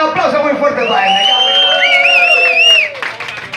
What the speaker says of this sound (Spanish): Jesús Lozano, un aplauso muy fuerte para él.